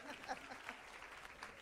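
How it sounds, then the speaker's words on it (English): An audience at a conference claps briefly in a soft, distant patter of applause. "Please, a round of applause for Mommy B as well."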